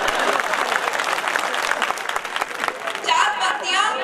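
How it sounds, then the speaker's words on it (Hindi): An audience at a Hindi poetry recital (kavi sammelan) in Shahjahanpur breaks into loud, sustained clapping that fills the hall, swelling and thinning over a few seconds with crowd murmur mixed in. "एक बार ताली बजाकर उभरो।"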